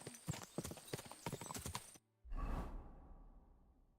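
A horse in a video game gallops with rapid, close, loud hoofbeats for about two seconds, then cuts off abruptly into a brief whoosh and a low rumble.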